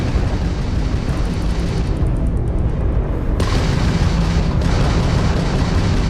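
Crimson Fleet ship firing weapons in a Starfield space battle, a loud, continuous roar of booms and bursts with a sharp change in intensity partway through; no voices.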